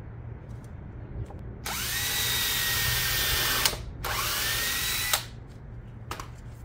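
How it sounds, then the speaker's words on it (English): A power drill pre-drilling holes in wood for a homemade wheel crib: two sustained whining runs of a few seconds each, separated by a short pause, then a final quick burst, heard close and alone. "So this is a pre-drilling, because if you don't pre-drill, it's going to end up cracking on you."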